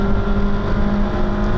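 A queue of Toyota MR2 race cars at Anglesey drones loudly and steadily with engines at high revs, one sustained pass with no voices.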